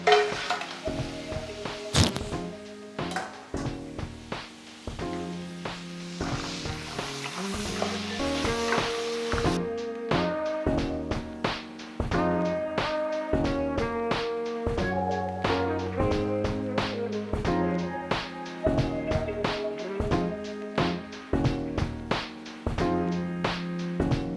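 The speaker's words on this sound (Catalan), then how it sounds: "Començarem una bona quantitat d'oli d'oliva i sofregirem primer els crancs" Crabs sizzle and crackle in a generous amount of hot olive oil, with a dense, steady spatter throughout and a loud burst of frying near the start, with no talking over it.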